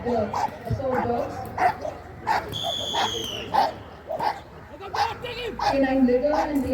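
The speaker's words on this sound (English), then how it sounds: "Watch how the decoy agitates the assault dogs." K9 assault dogs bark and yip in repeated bursts at an agitating decoy during a police demonstration, fairly close, with a voice talking over the barking and a brief whistle-like tone midway.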